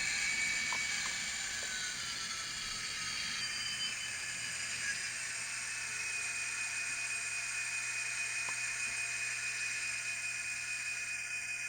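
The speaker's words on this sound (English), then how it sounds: "6 is a fan, and when you turn the fan on" A model locomotive sound decoder's fan effect: a steady high-pitched whirring hiss runs continuously, with a faint mechanical hum beneath and a tone that shifts partway through.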